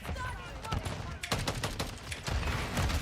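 Rapid automatic gunfire from a heavy weapon in Call of Duty: Modern Warfare 3 rattles in dense bursts, loud and close, with a brief pause before a second sustained volley.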